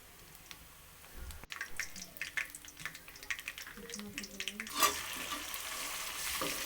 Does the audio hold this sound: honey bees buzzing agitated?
no